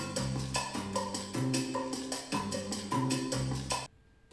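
Latin salsa recording with the cascara rhythm tapped out over bass and chordal guitar, a brisk repeating pattern that cuts off abruptly near the end.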